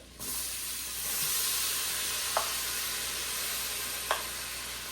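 Onions hitting a hot pan and sizzling, a close, steady hiss that swells just after the start and carries on evenly, with two short clicks from stirring and no talk.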